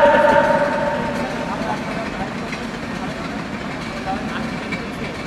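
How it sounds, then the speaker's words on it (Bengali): A train passes by a roadside religious gathering, making a steady, moderately loud rumble that fades slightly after the start, with murmuring voices in the background. "ট্রেন যাচ্ছে, রাস্তাটা ফাঁকা করে দেন।"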